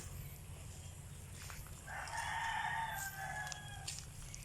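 A chicken in a family backyard lets out a faint, drawn-out cluck or crow partway through, heard at a distance over a low steady hum of background noise.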